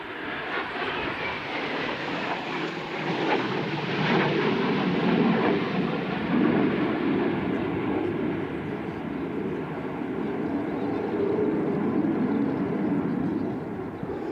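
Super-Étendard naval jet at a flying display, a steady broad roar that swells and lingers as it passes, loud and continuous throughout with no talk over it.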